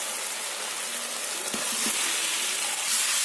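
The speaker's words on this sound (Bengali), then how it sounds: "মশলাটা ভালো করে কষিয়ে নেব মশলাটা আমার কষিয়ে এসেছে এতে আমি দিয়ে দেব ভেজে রাখা পটল আর আলু" A spice masala sizzles steadily as fried pointed gourd and potato are sautéed in it, giving a close, even hiss with a few soft stirring knocks partway through.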